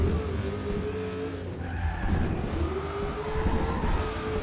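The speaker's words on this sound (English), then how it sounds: "Having a hard time spinning those back tires" A Dodge RAM Hemi pickup in Forza Horizon 2 spins its rear tires, giving a sustained, loud tire squeal and skid layered over a deep engine roar that rises and falls.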